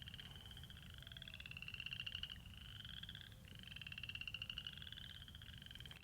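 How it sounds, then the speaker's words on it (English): Several frogs croak in a steady, rasping chorus that swells and fades in long pulsing trills, with a constant low rumble underneath and no talking. "Can you hear these frogs?"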